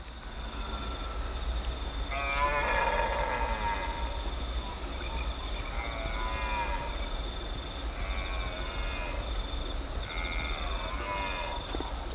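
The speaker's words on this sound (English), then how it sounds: "Pretty sure that's a cow again." A cow moos in the open countryside during a red deer rut, several drawn-out distant calls spaced apart over a constant low wind-like rumble.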